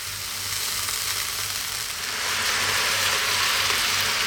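Chicken breast sizzles steadily in a hot pan as its moisture cooks off, a dense, continuous frying hiss that grows slightly louder partway through, with no talking.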